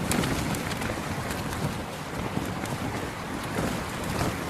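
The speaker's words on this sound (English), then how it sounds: "It's a pretty windy one tonight, not gonna lie." Strong wind roars steadily throughout at night, buffeting the microphone with a broad rushing noise that gusts but never lets up, at a tent campsite on a UK bike tour.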